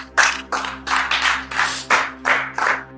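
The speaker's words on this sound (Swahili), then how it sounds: "Chapia Bwana Yesu makofi" A church congregation claps for Jesus in several loud, rhythmic bursts of applause, about six or seven even waves over a steady electrical hum.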